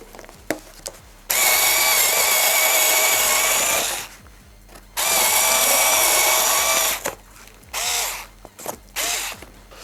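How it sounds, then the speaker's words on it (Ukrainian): An INTERTOOL WT-0300 cordless tool cutting cardboard whines in two long, loud bursts of roughly three and two seconds, then gives a few shorter spurts, with quieter handling noise between them. "з картоном ніяких питань і це досить зручно, якщо вам потрібно різати картон, багато картону"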